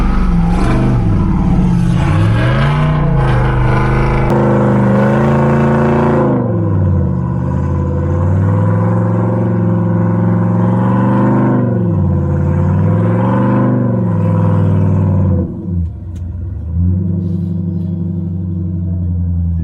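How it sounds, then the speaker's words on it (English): Andy's Jeep engine and exhaust note, loud and close while driving and plowing through snow on Icelandic snow tires, a steady deep rumble that swells and falls with throttle, briefly dipping near the end. "I'm not putting any music over the exhaust note of Andy's Jeep because it just sounds way too good."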